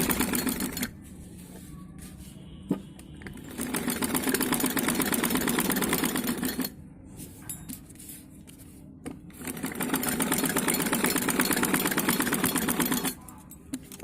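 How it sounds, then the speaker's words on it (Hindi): A sewing machine stitches buckram pinned onto kameez fabric, running in two long steady bursts of rapid needle chatter with a quieter pause between them. "हम आपको इसकी सिलाई लगाएंगे।"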